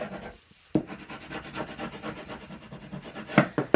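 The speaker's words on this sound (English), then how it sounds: "I'm going to burnish all of this down as well as I can" A burnishing tool rubs paper down onto a small 4x6 craft album, producing close, steady scraping and rubbing strokes in a loose repeating rhythm, with a couple of sharper taps and scuffs toward the end.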